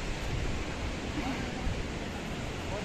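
A river runs close by on a mountain trek, giving a continuous broad rushing roar of flowing water with no clear breaks.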